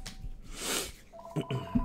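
A phone rings briefly in the background during an unboxing of pens, a couple of short electronic tone bursts near the end, faint and close, with no voices over it.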